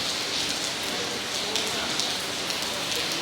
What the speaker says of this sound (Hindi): बारिश का पानी इनमें लगेगा।